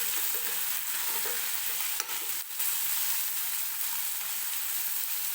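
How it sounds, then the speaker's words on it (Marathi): Tomatoes fry in oil for a tur dal and onion dish, giving a steady broadband sizzle with light stirring scrapes and a brief dip near the middle, close and continuous with no voices. "टोमॅटो मऊ होईपर्यंत मी तेलामध्ये भाजून घेणार आहे."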